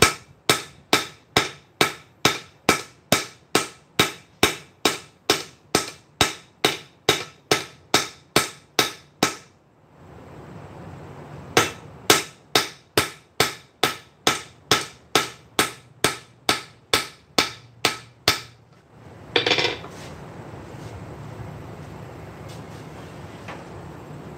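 Steady, loud hammer blows ring out on a 100-year-old Fisher anvil while a hot cut hardy is forged, about twenty strikes in an even rhythm, a short pause, then another fast run of ringing blows and a brief scrape.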